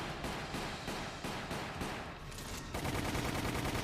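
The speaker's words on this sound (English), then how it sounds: "I finally sort of got the hang of shooting the bats at this point" Rapid repeated gunfire from shooting bats in Resident Evil: The Umbrella Chronicles, a dense rhythmic volley of shots that continues steadily and grows slightly heavier near the end.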